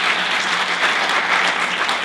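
An audience at a San Diego Unified school district gathering claps continuously, giving a dense, even wash of applause throughout with no pauses.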